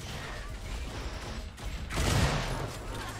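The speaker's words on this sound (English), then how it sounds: "and a headshot from Reflex." A burst of weapon fire during a headshot in an Unreal Tournament match, heard as a steady rattle of shots that swells into a loud crashing impact near the end, all within a short, busy stretch of game noise.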